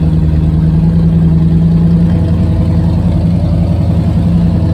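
Wild Thing, a car with a big set of 10-inch subwoofers in a ported box, runs with a steady loud low engine drone and idle rumble close by, a slight rev swelling near the middle, no talk.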